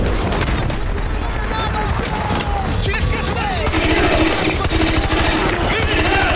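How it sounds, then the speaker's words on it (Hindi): Grenade blasts and rapid gunfire rattle through a Call of Duty: Modern Warfare 2 Remastered campaign battle, a dense, continuous barrage of shots and booms with a heavier burst of explosions in the second half. "ओके, ग्रेनेड ही फेंका था भाई इसने।"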